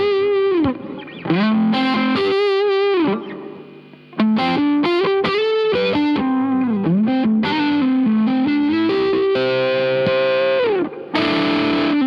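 Overdriven electric guitar played through the red channel of a Bogner Ecstasy amp powered via a Variac, with sustained bending lead notes and sliding phrases, loud and saturated with a few brief dips.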